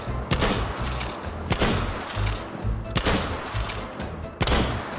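Remington 870 shotgun firing buckshot at a metal target in the VR shooter H3VR: four loud, sharp blasts spaced about a second apart, each followed by brief clatter and pump-action handling noise, no talk.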